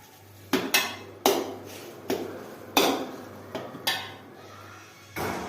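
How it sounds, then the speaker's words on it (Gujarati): A spoon knocks and scrapes against a pot while vegetable pulao rice with lemon juice is stirred, giving about eight irregular clinks and thuds close by. "હવે એને બધું સારી રીતે મિક્સ કરી લઈશું"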